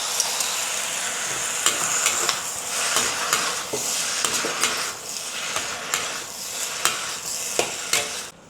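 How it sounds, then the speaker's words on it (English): Chinese yam, celery and wood ear mushrooms stir-fry in a hot pan under a continuous loud sizzle. A metal spatula clinks and scrapes against the wok at a fairly regular pace throughout. "Stir fry it for about 1 to 2 minutes."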